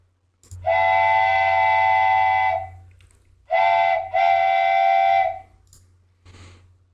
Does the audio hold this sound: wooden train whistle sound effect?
yes